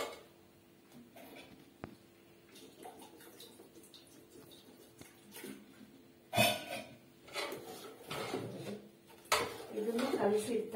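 A spoon stirs dosa batter of ground green gram and rice in a metal pot, producing intermittent clanks and wet scraping that grow louder and busier toward the end, while someone speaks over it.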